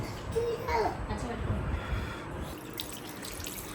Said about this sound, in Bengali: তোর মা হাত ধোয়া দিচ্ছে